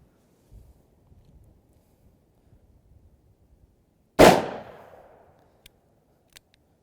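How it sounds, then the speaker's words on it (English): A single sharp shot from an S&W 686 .357 Magnum revolver fired at a target outdoors, loud and close with a decaying echo, amid faint wind and small handling noises. "this time I'm gonna shoot at that bottom left red dot"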